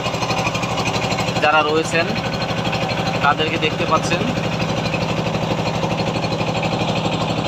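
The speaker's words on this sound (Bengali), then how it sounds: "নদীর বুক ছিঁড়ে আমাদের ট্রলার এগিয়ে চলছে" A trawler boat's engine on the Meghna river, a loud, rapid, steady diesel chugging that runs throughout, with a voice talking over it.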